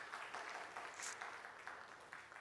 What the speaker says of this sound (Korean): 우리 또 환영의 박수 해주시기 바랍니다